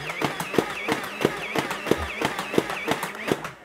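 Nerf Elite XD Rhino Fire blaster shooting foam darts in a rapid series of about eleven sharp pops with whirring in between, close and steady, no talking.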